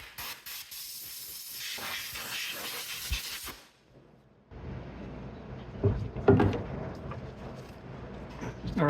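Compressed air blasting old belt debris out of the pulley teeth on a 2004 Honda Accord, a loud close hiss in bursts with a brief pause midway, then resuming with rattling and clatter.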